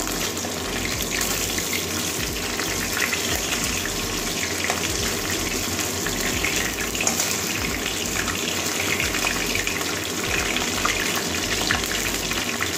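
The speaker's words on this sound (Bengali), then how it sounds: "দুদিকেই একটু লাল লাল কড়া কড়া একটু ভেজে নেবো।" Catla fish heads fry in hot oil in a pan, giving a loud, continuous crackling sizzle that stays even throughout with no talking.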